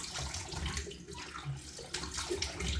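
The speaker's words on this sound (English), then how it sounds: "That quick rinse with hot water just to see if you need any touch-ups." Hot water runs steadily from a tap during a shaving rinse, a continuous close splashing gush with irregular splatters as hands move through the stream.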